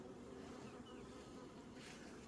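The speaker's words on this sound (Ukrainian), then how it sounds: "на стаціонарі бджола теж працює" Steady, soft buzzing of Carniolan honey bees at a stationary apiary, a continuous low hum without talk, moderately distant.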